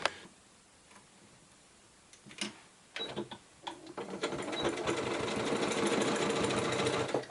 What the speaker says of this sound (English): I will now change my foot at the machine because I've got 1/4 inch foot there, and I need to stitch it with 1/2 inch allowance